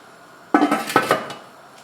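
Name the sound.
putting a lid on a pot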